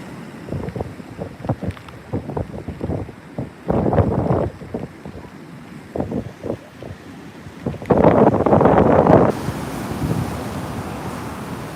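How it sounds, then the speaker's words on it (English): Repeated gusts of Hurricane Dorian's wind buffet the microphone in loud, uneven bursts, with two longer roaring blasts, over faint surf in the background at Flagler Beach Pier. "There's some good gusts in there. Yeah, there's some gusts."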